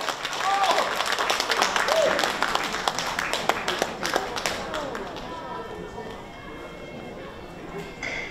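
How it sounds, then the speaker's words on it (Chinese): Audience at a Peking opera commemorative concert applauds to welcome a performer to the stage, a bright wash of clapping strongest early that gradually thins out over several seconds. "来各位掌声欢迎齐老师登台表演"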